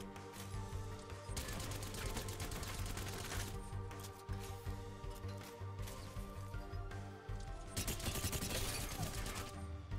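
A modded brute plasma repeater in Halo 3 fires in sustained rapid bursts, a dense buzzing crackle broken by brief pauses, loud and close, over a low steady game background.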